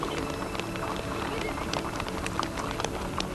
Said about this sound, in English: members of the Lakota tribe, the people once known as the Teton Sioux, saddle their horses and ride.